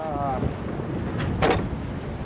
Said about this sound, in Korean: 잔잔했던 바다가 금세 거친 파도를 토해냅니다